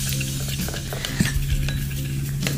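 Flour-and-water paste for lumpia wrappers being stirred in a bowl, a steady run of soft scraping and light utensil clinks against the dish, close and continuous, with a low hum underneath and no talk.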